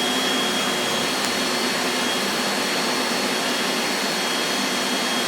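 A gasoline engine-powered bucket honey bee vacuum with a side-mounted carburetor runs at a steady high roar, loud and constant with a faint high whine and no speech.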